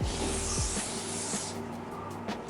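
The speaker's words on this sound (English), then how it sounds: "Now we will just spray this in the room and see how it will detect." An aerosol spray hisses loudly and continuously into a room beside a Dyson Pure Cool air purifier, then cuts off after about a second and a half, leaving only a low fan-like hum.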